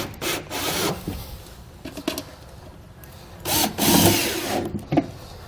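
A power drill drives self-tapping screws into the aluminum bed of a 2017 Ford F-350 pickup, with several short whirring bursts separated by brief pauses, loud and close.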